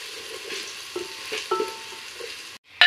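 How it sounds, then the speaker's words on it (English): Golden-brown onions and garlic sizzle in a pan while being stirred, soft repeated scraping strokes over a light steady fry, ending in a brief sharp clatter. "our onions are golden brown. Now time to put the garlic. Now let's stir."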